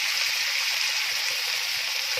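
Masala sizzles steadily in a hot pan for bhindi salan, a constant bright frying hiss with faint crackles, close and uninterrupted, with no voices.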